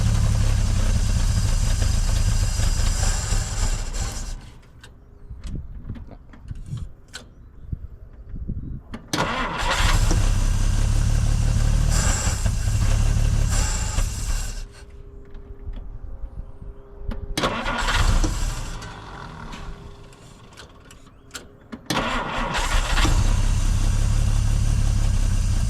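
A 1950 Dodge Meadowbrook engine cranks and catches several times, running loud and close with rough, uneven idling between bursts of cranking, and brief pauses where it dies down.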